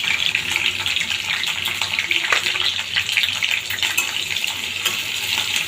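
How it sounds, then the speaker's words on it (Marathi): Onion, capsicum and green chillies fry in a little oil in a kadhai, giving a steady, bright sizzling hiss with occasional crackles throughout. "कढईमध्ये अगदी 2 चमचे तेल घालायचं आहे आणि त्यामध्ये आपल्याला कांदा आणि शिमला आणि जी हिरवी मिरची आहे ते सगळं एकत्र घालायचं आहे"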